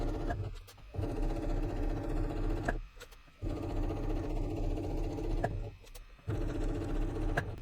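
A sewing machine stitching a notebook pen holder runs in long steady bursts, pausing briefly between runs, with a close, continuous mechanical hum.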